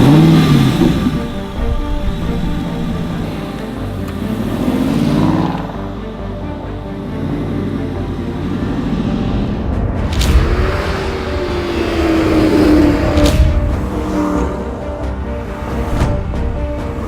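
An Aston Martin V8 Vantage revs and pulls away on a drive, its V8 engine and full-open exhaust roaring loudly and close, with several rising and falling revs and sharp gear-change cracks.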